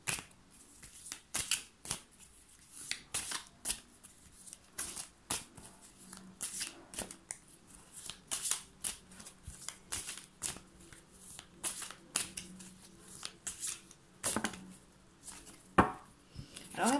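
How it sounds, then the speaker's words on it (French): Oracle cards being shuffled by hand for a reading, a quick string of crisp riffling bursts and soft slaps that repeat irregularly, close and fairly quiet. "Donc là, c'est les cartes de la féminine hein, qu'on sort."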